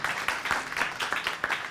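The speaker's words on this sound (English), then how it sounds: "which also deserves a round of applause" Audience applause at a Supreme Court preview event, a steady wash of clapping at moderate level lasting the whole moment, with a faint voice mixed in.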